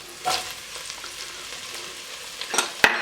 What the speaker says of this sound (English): we're going to throw our onions, our jalapenos,